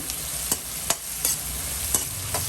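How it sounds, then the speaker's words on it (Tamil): Onions sautéing with a little salt in a pan, with a soft steady sizzle and about half a dozen sharp spatula scrapes and knocks at irregular intervals, close and clear with no talking. "வதக்குங்க"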